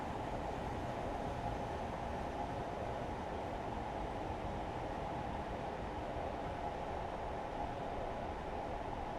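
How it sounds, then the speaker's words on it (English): Steady rumbling train noise from the Train Simulator Classic game's 1950s Stour Valley Railway, with a constant low roar and rail hiss, continuous and fairly even throughout, no voices. "We'll let the train slow down on its own."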